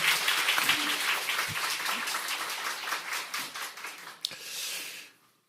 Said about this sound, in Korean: 자, 박수로 격려하겠습니다.